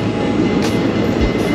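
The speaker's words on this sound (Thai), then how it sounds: "รถไฟก็จะผ่านแล้วนะครับ" A train rumbles loudly and steadily past a trackside cafe in Kanchanaburi, a close, continuous rolling roar of wheels on rails.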